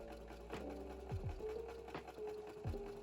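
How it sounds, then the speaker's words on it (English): Sewing machine running a straight stitch to attach a collar stand to a dress neckline, a quiet steady whir with small clicks and bumps from handling the fabric, close by. "and then did a straight stitch."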